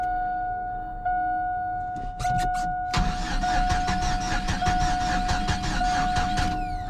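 A GMC Sonoma truck engine with a weak battery cranking sluggishly, a loud, rapid, uneven chugging of the starter that begins after a few seconds and keeps grinding over a steady electrical whine.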